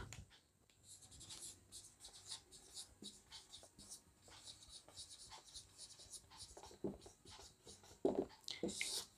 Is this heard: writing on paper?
yes